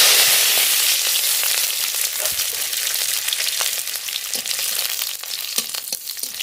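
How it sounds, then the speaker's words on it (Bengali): Steady, close sizzling of whole garlic cloves frying in hot mustard oil in a wok, a continuous hissy crackle with occasional sharper pops and faint stirring. "রসুনটা একটু ভাজা ভাজা করে নেব"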